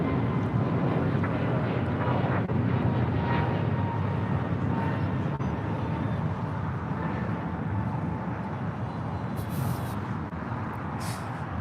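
An American Airlines Airbus A321neo takes off from LAX, producing a steady, moderately loud jet rumble that tapers slowly, with a couple of brief high hissing bursts near the end.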